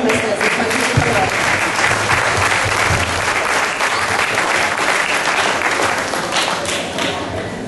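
A crowd applauds at a city facility opening, dense and loud, a steady wash of many hands that stays even and unbroken throughout.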